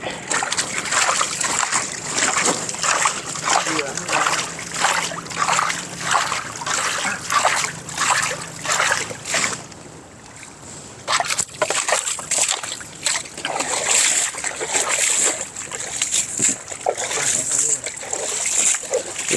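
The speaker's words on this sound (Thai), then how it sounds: "เอาวิดน้ำใส่ไปด้วย วิดน้ำใส่ไปด้วย" Water is scooped and splashed repeatedly in quick, rhythmic sloshes outdoors, loud and close, while people talk over it throughout and there is a brief lull partway through.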